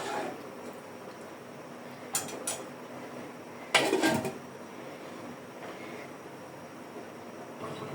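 A lid being set over a pot of chicken pilaf, two metallic clanks against the rim, the second louder and ringing briefly, over a quiet kitchen background.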